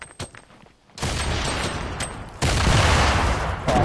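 Grenade explosions in Fortnite, loud close blasts and bursts of crackling noise arriving in two heavy waves after a quieter opening.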